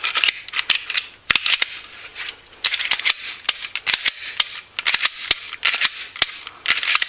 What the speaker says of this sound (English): Double check our trigger to make sure everything's functioning